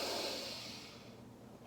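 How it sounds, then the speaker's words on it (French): One deep, audible breath during a flowing dance exercise: a soft, airy exhale that starts close and fairly full, then fades away over about a second and a half. "grande respiration ici"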